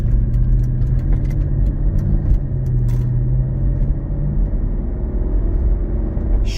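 A 2004 Mercedes-Benz SL 500 driving on the road in cold weather, with a steady low engine and road rumble throughout and faint ticks and squeaks above it.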